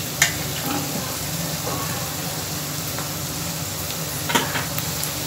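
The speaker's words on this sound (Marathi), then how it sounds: "सिमला मिरची घालूया." Capsicum stirs and sizzles in a frying pan with browned onion and green chilli for a dhaba-style kadhai chicken, giving a steady close hiss broken by occasional scraping clinks of a spatula.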